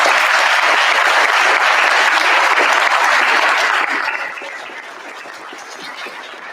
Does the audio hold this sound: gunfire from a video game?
no